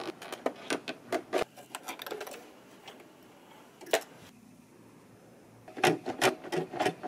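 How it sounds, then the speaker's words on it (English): A sewing machine runs a stitch a quarter inch from the fabric edge to make a channel for a ruched top, heard as quick bursts of rapid mechanical ticking broken by short pauses. "I'm gonna sew my stitch about 1/4 of an inch away from the edge so that I create a 1/4 inch channel."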